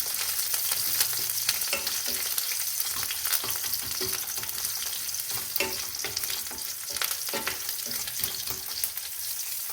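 Pirandai, curry leaves and garlic frying in oil with spluttered mustard seeds, a steady crackling sizzle broken by frequent spatula stirs and small pops, close and consistent throughout.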